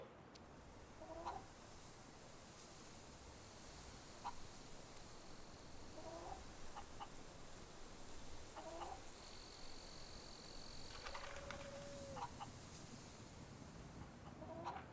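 Chickens clucking in the Fable 3 video game, several short calls at intervals over a steady game ambience, fairly faint and with no talk.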